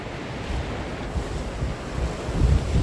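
Ocean surf washes on the shore of Po Toi Island, Hong Kong, as a steady, loud rush of water, heavily mixed with wind buffeting the microphone, with no voices.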